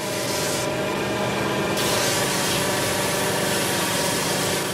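Sanding machine smoothing a wooden hurling stick, a loud, steady abrasive rubbing roar that continues unbroken and close up, with a brightness shift partway through and no voices.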